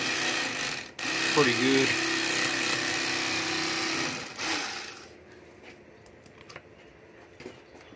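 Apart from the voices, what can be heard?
electric fillet knife trimming flathead catfish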